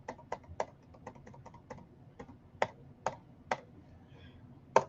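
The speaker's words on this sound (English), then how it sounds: "you use the arrow key on the keyboard to figure out which one you want" Computer keyboard arrow keys pressed over and over, a run of quick, crisp clicks spaced unevenly with a few sharper, louder taps, close up and alone without talk.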